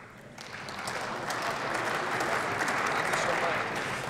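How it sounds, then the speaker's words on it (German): Applause in the German parliament rises as a broad, fairly distant wash of clapping for a speech by Dr. Anton Friesen, steady for several seconds. "Applaus"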